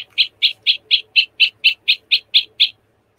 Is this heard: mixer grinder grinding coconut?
no